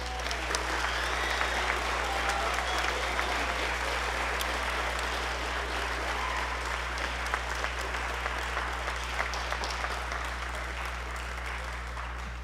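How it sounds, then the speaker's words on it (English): At a school spring band concert, the audience applauds students receiving awards: a long, steady roll of many hands clapping over a constant low electrical hum. "let's give another round of applause to all these students for receiving these awards"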